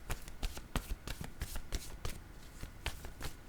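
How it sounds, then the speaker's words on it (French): A deck of word cards is handled and a card is drawn, producing a quick series of crisp riffling and flicking snaps at close range with no talking. "Je vais piger une carte mot de mon jeu haut pour la carte amour."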